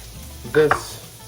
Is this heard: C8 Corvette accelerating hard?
no